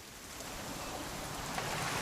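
Steady rain falling in the video game What Remains of Edith Finch, a continuous soft hiss of drops spread evenly across the scene with no voices.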